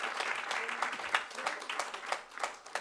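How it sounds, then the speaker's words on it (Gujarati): A crowd at a religious katha gathering claps for the organising team, a thick, continuous wash of many hands with slight swells and dips, fairly loud, with faint voices mixed underneath. "તે બધા આખી ટીમ માટે એકવાર તાળીઓ થઈ જાય"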